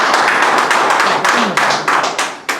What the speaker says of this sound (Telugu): సూపర్, ఫ్యాంటాస్టిక్, గట్టి క్లాప్స్ కొట్టండి.